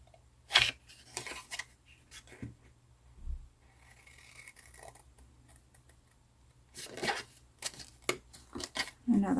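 Sharp scissor snips cut through the corner of a paper envelope in a few short bursts, close and fairly quiet, separated by gaps of soft rustling while a person talks quietly.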